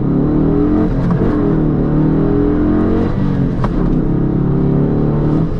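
A Dodge Challenger Shaker with a manual gearbox launching under full throttle: a loud, steady, close engine roar with strong low rumble that holds high revs throughout, with faint mechanical whir on top.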